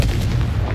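A Confringo fire blast spell in the Hogwarts Legacy video game, heard as a short, heavy, low boom that fills the whole moment, loud and close, with no talking.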